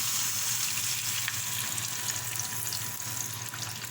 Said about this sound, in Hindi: प्याज को फ्राई करना है